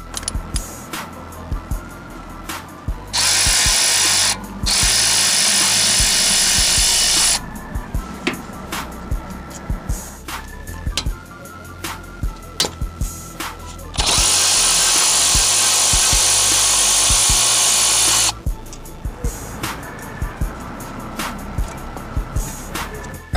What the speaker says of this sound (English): use a 14mm socket to remove both caliper bolts